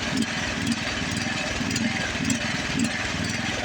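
A lawn mower engine runs steadily at close range with a rough, pulsing drone that rises and falls slightly in a regular surge, alone without talk.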